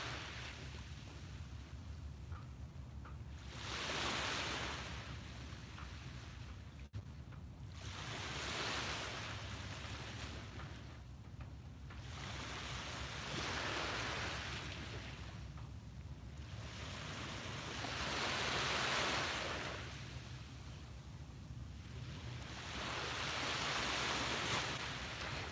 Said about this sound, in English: Soak in the colors and the sounds of the waves.